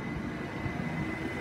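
A Southern Electrostar electric train departs Watford Junction, a steady low rumble of wheels and traction motors with a constant electric whine, continuous and fairly close, no voices.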